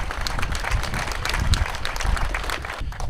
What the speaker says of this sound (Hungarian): a taps most is, meg a műsor után is jár nekik